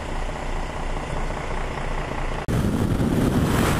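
Suzuki GSX-S1000 motorcycle engine running steadily up close, a continuous broadband rumble that jumps louder and rougher partway through as revs rise, with no talking over it.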